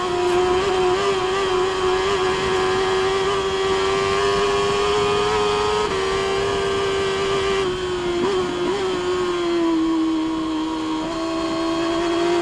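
Sustained engine drone of racing motorcycles at the Isle of Man TT, a steady loud tone holding throughout with slight pitch dips and shifts, as if bikes pass or change gear, with no talking.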